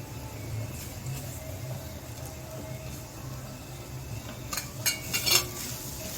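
A spoon scraping and clinking in a pan while a jaggery mixture is stirred for fried wheat-flour modak, faint and soft over low background hum, with a few sharper metallic taps near the end.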